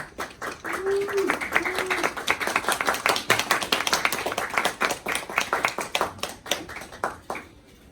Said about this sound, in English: let's give them a big round of applause as they come in.